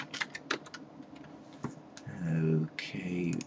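Keyboard typing on a PC running Microsoft Word 5.5 for MS-DOS, a few quick clusters of key clicks, close and moderately loud, with a steady electronic tone and background hum joining partway through.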